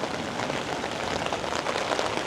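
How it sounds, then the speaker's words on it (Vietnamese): Steady rain falls on a bonsai garden, a dense even patter of drops close by with no voices. "một cơn mưa bất chợt."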